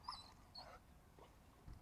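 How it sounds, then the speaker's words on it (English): A German Shepherd puppy on a leash during training gives a few short, faint yipping barks, spaced apart, with quiet background noise in between. "that there is a prey-driven bark"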